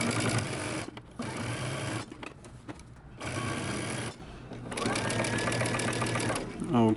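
A sewing machine stitches a button-up shirt seam with a steady, loud mechanical whir that runs in bursts, stopping briefly when the seam pivots and then continuing.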